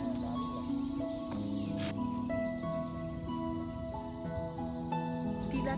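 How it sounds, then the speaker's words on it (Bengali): Crickets at Gopegarh keep up a steady, high continuous drone among trees and scrub, with faint bird calls and other insect tones layered underneath. "ঝিঝি পোকাগুলো ডাকছে, শোনো।"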